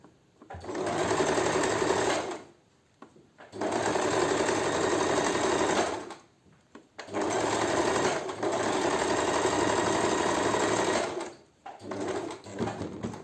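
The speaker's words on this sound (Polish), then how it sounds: "Wbijam, obkręcam i kontynuuję szycie." A sewing machine stitches a tulip decoration onto a bag in three long close bursts, each a few seconds, separated by short pauses.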